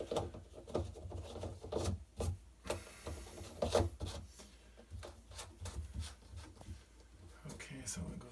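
ABS drain pipe pieces dry-fitted together for a sink, giving a series of irregular hollow plastic knocks, scrapes and rubbing clicks, close but fairly quiet.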